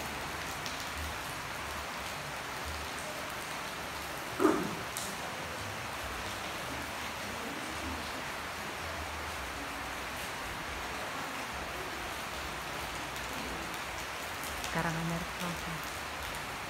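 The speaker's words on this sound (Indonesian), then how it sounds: "Ini suasana hujan" Rain falls steadily at a coffee shop in Karanganyar, a dense, even hiss that continues the whole time, broken by a sharp knock or clatter partway through and faint voices later on.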